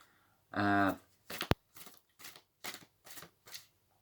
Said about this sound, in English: I just suddenly felt the need to pre-shuffle them again